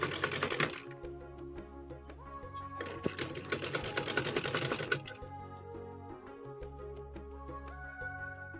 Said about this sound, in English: I'm going to follow the groove again and sew down